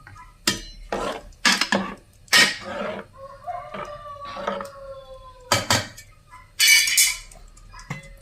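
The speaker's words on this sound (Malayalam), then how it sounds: "ഇനി നമുക്കിത് ഒന്ന് ഇളക്കി കൊടുക്കാം." A utensil stirs jaggery rice in a pot with loud, close bursts of scraping and clanking, while a rooster crows and clucks in the background.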